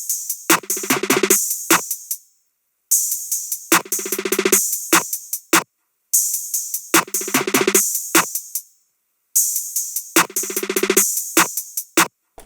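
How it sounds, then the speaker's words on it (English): Four repeating bars of programmed drums with fast snare rolls building in bursts, each phrase separated by a brief gap of silence. "Then we have these snare rolls, which sound like this."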